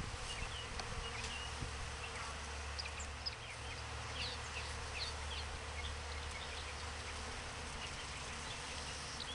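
Honeybees buzz steadily around hive frames being moved from a toppled mating nuc into a 10-frame box, a dense, continuous swarm hum close by with no talking.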